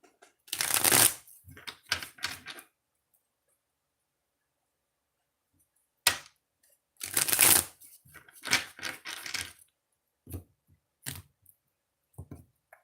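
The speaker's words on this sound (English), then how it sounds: "Two shuffles." Oracle cards riffle-shuffled up close, two loud bursts separated by a pause, each followed by quieter tapping and sliding of the deck.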